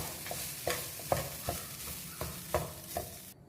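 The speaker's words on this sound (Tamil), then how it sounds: "இப்போ வந்து நம்ம ரைஸ் வந்து இதில் ஆட் பண்ணிக்கலாம். இது நல்லா ரைஸோடு நல்லா மிக்ஸ் பண்ணிக்கணும்." Rice is stirred into a gooseberry rice mixture in a pan: a rhythmic series of spatula scrapes and taps against the metal over a soft sizzle, close and clear, with no talking.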